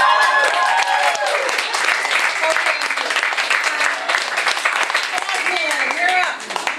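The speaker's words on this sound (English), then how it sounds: "a little bit of applause" Steady applause fills an open mic night in a Goffstown Village venue, a crowd clapping continuously at close range with some voices mixed in before it tapers at the end.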